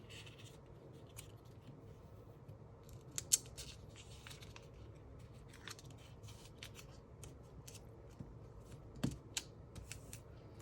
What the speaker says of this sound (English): Just give it a little snip.